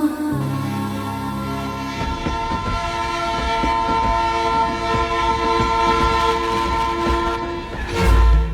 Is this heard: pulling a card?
no